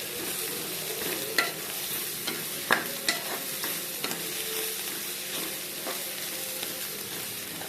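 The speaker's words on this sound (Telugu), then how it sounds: "ఆయిల్లో వేసి రెండు నిమిషాలు ఇలా మగ్గనివ్వాలి." Vegetables sizzle in hot oil in a pan for a village-style brinjal fry, a steady close crackling hiss broken by occasional scrapes and taps of a stirring spoon.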